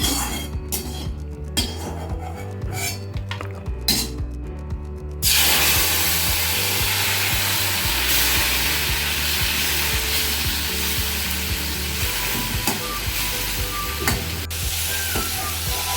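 Prawns sizzling loudly in hot oil after a short stretch of quieter clinking; the frying crackle stays dense and continuous, with an occasional scrape of a utensil.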